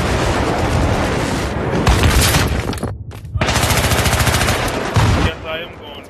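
Heavy sustained automatic gunfire in a Battlefield 3 Conquest match on Damavand Peak, loud and close with rapid rattling bursts, a brief pause, then continuous firing resuming with booming impacts underneath.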